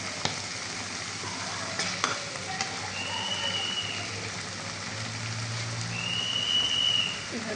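Vegetables fried with cooked spices in a pan, a steady, rain-like sizzle that swells a little toward the end, with occasional stirring scrapes and clinks of a spoon.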